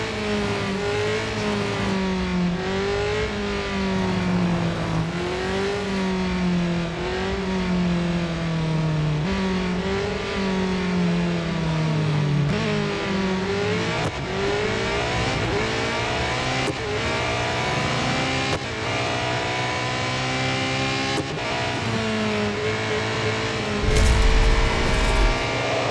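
Porsche 919 Hybrid Evo race car in the Real Racing 3 game, its hybrid engine note rising and falling steadily through repeated upshifts and braking downshifts, loud and continuous throughout with no talking.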